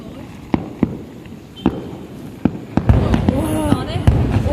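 Fireworks set off over Hồ Văn Quán lake: several loud, separate bangs give way to a dense, crackling barrage, with people talking nearby.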